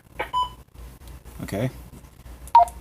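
Two short electronic beeps come from a ham radio transceiver set with a PL tone, one near the start and one near the end, with a brief spoken word in between.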